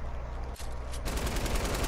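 Rapid automatic gunfire from the spammer weapon in Fortnite, a quieter stretch followed by a sudden loud burst of dense, fast shots.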